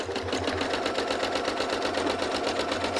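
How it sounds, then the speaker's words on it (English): A sewing machine quilts fabric in a straight line, a ruler guiding the layers, its needle running in a steady, fast rhythmic whir that stays close and even for the whole stretch with no talk. "So I'm going to use this ruler to help me push the fabric while I'm quilting"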